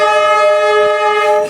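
A train horn blares loud and sustained through a narrow residential lane on Hanoi's Train Street in Vietnam, a steady harmonic blast holding for over a second with faint rumble beneath.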